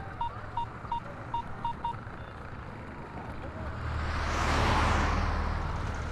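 A telephone number being dialed in a Telugu film scene: six short, evenly spaced keypad beeps, clear and close, followed by a swelling rush of broadband noise.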